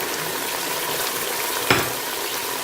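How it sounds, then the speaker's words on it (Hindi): Spices frying in a pot for peas pulao, a loud, steady sizzle with one brief sharp clatter partway through and no talking. "हम मसालों को अच्छी तरह से भून रहे हैं।"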